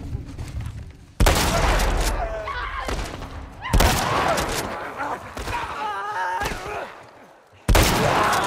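Gunfire in The Last of Us Part I: three loud, sharp shots spaced a few seconds apart, each trailing into a ringing decay, with voices and game sounds between them.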